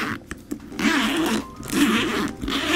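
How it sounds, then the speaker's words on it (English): The top zipper closure of a designer-style purse is zipped in a few quick rasping strokes, close up and moderately loud, with no talking. "it comes with the top zipper closure"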